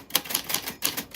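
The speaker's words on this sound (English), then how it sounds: "That is how your name sounds on a vintage typewriter" A vintage typewriter types out a name in a quick run of sharp, close keystrikes, about six clacks in uneven rhythm with no talking.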